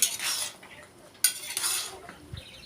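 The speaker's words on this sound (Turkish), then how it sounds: "Bu şekilde güzel karıştırıyoruz" A homemade vegetable garnish mixture stirred with a metal spoon in a bowl or pot, making two wet, clinking scraping bursts close by with quiet pauses between.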